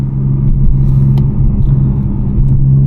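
A BMW M2 with the S55 engine and an MHD stage 1 tune drives along the road, giving off a steady, loud low engine drone and tire rumble throughout with slight rises in pitch.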